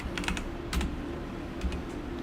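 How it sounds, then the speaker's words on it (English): A few short bursts of keystrokes tapped on a computer keyboard, close and fairly crisp, with pauses between them over a steady low hum. "I can even type something there"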